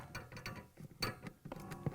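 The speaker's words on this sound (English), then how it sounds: "now we can tighten them using that 3/8 socket wrench" A 3/8 socket ratchet wrench tightens the mounting bolts on a Frigidaire/Electrolux condenser fan motor, giving quiet, close, uneven clicking ratchet strokes over a couple of seconds.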